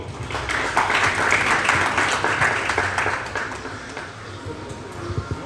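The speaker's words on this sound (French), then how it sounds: "que je vous demande d'applaudir très fort." An audience applauds at a press conference for a new album at a cultural centre, a dense round of clapping that slowly fades, with faint voices underneath.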